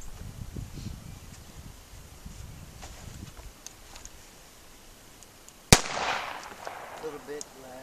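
A single sharp, loud gunshot from a Smith & Wesson 66 .357 Magnum revolver loaded with .38 Special 105-grain semi-wadcutter rounds, fired at a target 15 yards off, following a quieter stretch with faint low rumbling.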